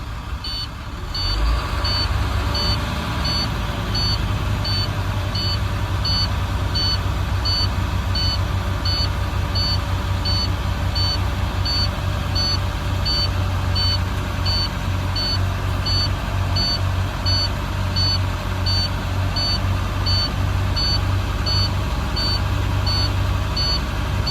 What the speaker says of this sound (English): I will accelerate no more than 1500 RPM